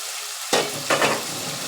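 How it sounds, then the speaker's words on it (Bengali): Raw rohu fish and potato masala fry in oil in a kadai as a spoon stirs, two scraping strokes rising over a steady soft sizzle. "কড়াইতে দিয়ে একটু 2 মিনিট নাড়তে হবে"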